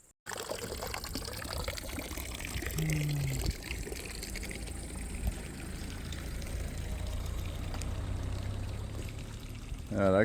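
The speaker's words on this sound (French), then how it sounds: "on a vu cette belle fontaine. Et puis on a pris la douche." Water pours and splashes steadily from a village fountain used as an outdoor shower, a continuous close trickle with brief voices and movement over it.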